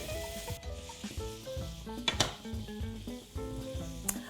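Chopped butternut squash sizzling and being stirred with onions and grated garlic in a pan, a low frying crackle with clinks under louder tonal background music.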